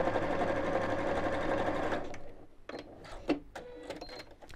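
A sewing machine stitches a fabric circle pouch, running steadily and loudly for about two seconds before breaking into short stop-start bursts of stitching with brief pauses between them.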